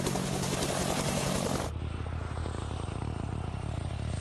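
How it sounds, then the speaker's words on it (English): A helicopter's main and tail rotors make a loud, continuous broadband roar with a rapid pulsing chop, sounding close and steady throughout. "Often the first thing you hear from a helicopter is the sound of the wake from the main rotor"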